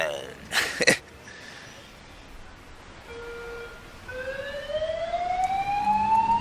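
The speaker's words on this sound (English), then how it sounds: "Fire alarm!" A fire alarm sounds in the Emergency 4 video game, with a London mod, at a large block of flats. A brief burst comes first, then steady electronic tones rise and grow louder over a background hum.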